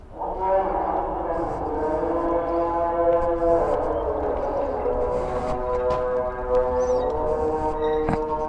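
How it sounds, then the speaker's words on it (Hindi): An Islamic call to prayer sounds outdoors in a Middle Eastern city, a sustained melodic voice carried from a distance over steady ambient noise and faint wind. "माशाल्लाह अज़ान आ रही है अभी।"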